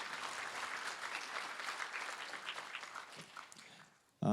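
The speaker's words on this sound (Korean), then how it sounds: "과장님께 큰 박수 다시 한번 부탁드리겠습니다" Applause from the audience at a Korean college workshop panel discussion, a moderately distant, steady round of clapping that tapers off before a sudden loud sound at the very end.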